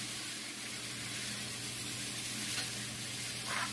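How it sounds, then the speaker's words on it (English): Onions sautéing in a pan for a Mexican-style pork and squash dish give off a steady, soft, continuous sizzle, fairly quiet and unbroken throughout. "I'm going to let these onions soften up, crystallize really nice, and release their flavor."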